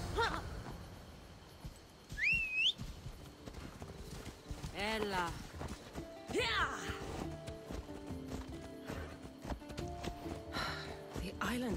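Horse hooves clip-clop in a steady walking rhythm with a brief whinny, under game music and voices talking, in Assassin's Creed Odyssey.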